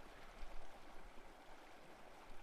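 River water flows in a video game weather system, a soft, steady rushing wash heard alone and fairly faint.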